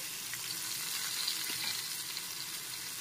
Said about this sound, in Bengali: এখন একটু নেড়ে চেড়ে নিচ্ছি টমেটোটা নরম হওয়া পর্যন্ত